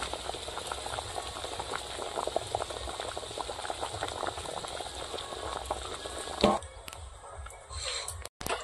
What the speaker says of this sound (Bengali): এবার ভেজে রাখা মাছগুলো দিয়ে দেবো, দিয়ে তরকারিটা ভালো করে ফুটিয়ে নেবো